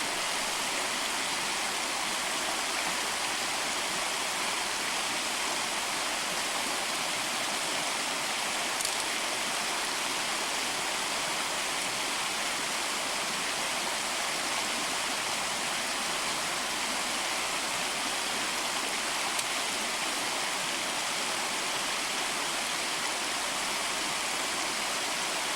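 Patterson Creek flows near an old mine mill site, giving a steady, dense rushing of water that holds evenly throughout with no voices or other sounds.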